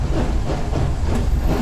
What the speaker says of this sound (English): They were presented with 3 unique train noises, which represented different areas along a track